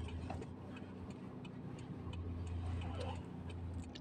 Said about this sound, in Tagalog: Gamitin mo yung hazard mo pag atras ka